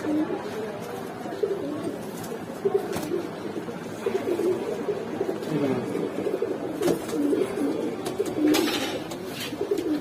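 Giribaz pigeons from Rajshahi cooing in a steady low murmur, with soft coos overlapping throughout and brief rustling noises, amid a busy pigeon-selling setting.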